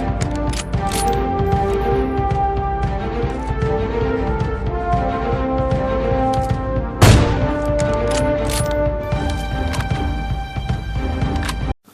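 Rapid gunfire from an M4 rifle with a 6x sniper scope in a shooter video game, a dense, loud fusillade of sustained shots with a brief break near the end and no talk.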